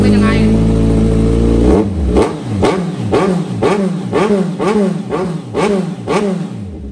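A Kawasaki Z1000 motorcycle engine idles loudly, then is revved in about nine sharp, rhythmic blips, each rising and falling quickly, close to the listener.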